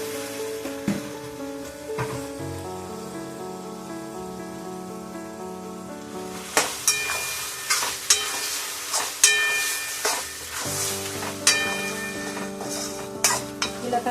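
Half a kilo of chicken stirred into hot oil with tomato and turmeric for an Indian chicken curry: steady sizzling with harmonic hum early, then a series of sharp scraping and clinking stirs against the pan, close and clear.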